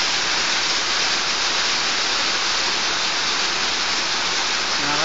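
Ice rain pours down in Abha, Saudi Arabia, a dense, continuous hiss of hard pellets striking surfaces nearby, steady and loud throughout with no voices.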